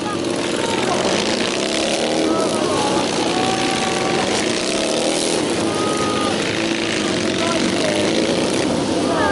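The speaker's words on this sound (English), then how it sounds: "This time my riders are going to come in with 4 bikes crossing over." Four display team motorcycles from the Royal Signals White Helmets accelerating and crossing over at a steam fair, loud continuous engine drone with shifting tones, under a public-address commentator's voice.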